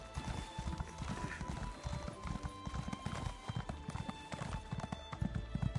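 Steady clip-clop of a horse's hooves in Elder Scrolls Online, a brisk rhythmic gait over a low game ambience with faint tonal music lines.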